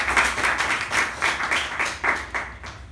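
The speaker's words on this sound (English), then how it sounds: "can we have a huge round of applause for the speaker and the evaluator?" Applause at a club meeting for a speaker and their evaluator: a short burst of clapping from a small group in a room, with uneven surges and a fading tail, no talk over it.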